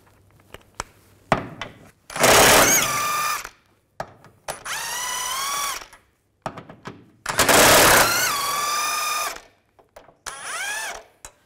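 Power ratchet or impact tool spinning out control arm bolts with a 16mm socket on a 2006–10 Volkswagen Jetta front suspension, two long loud whining bursts with rising pitch, separated by clicks and clanks of handling the tool.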